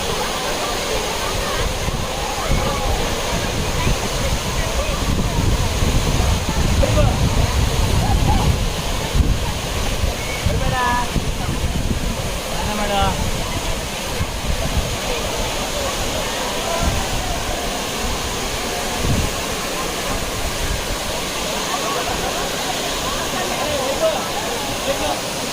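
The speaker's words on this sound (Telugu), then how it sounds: "ఇదే హెబ్బే వాటర్ ఫాల్స్." Hebbe Falls, a forest waterfall, roars as a loud, steady wash of broadband noise, with gusts of wind buffeting the microphone throughout.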